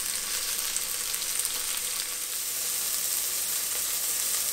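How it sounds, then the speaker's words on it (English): Steady, dense sizzling of kimchi frying in a hot pan, a continuous crackling hiss with no talking. "You hear it sizzling away."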